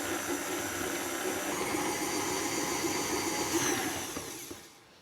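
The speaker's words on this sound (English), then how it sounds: "I'm going to mix this till it's pale" An electric mixer beats butter and sugar for a lemon pudding, a steady whirring drone that holds for several seconds and then winds down, with no talking.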